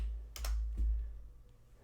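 Quick keystrokes on a computer keyboard as a word goes into a search bar, a few faint clicks in a short burst over a low background hum.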